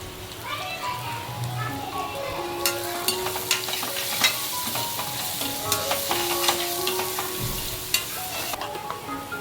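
Kashmiri chili and turmeric fry in a pan for Konkani-style chicken vade, a soft, steady sizzle with scattered spoon-stirring clicks and scrapes, a voice speaking faintly underneath.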